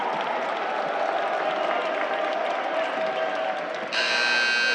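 Crowd applause and cheering fill a college men's basketball gym as the clock runs out, then a loud, steady electronic game-ending buzzer sounds near the end and rings out over the noise.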